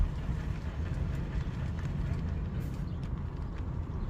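A Toyota RAV4 with a bad clunk and grind, heard from inside while driving. A steady low rumble with repeated knocking beats continues through the whole stretch.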